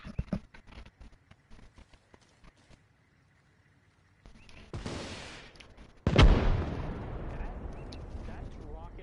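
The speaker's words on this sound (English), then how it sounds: "That's rocket launcher. That's an RPG." An RPG rocket explodes during a tense tactical shooter match on PS5: after quiet scattered clicks, a rushing whoosh is followed by a sudden loud, close blast whose rumble lingers and slowly fades.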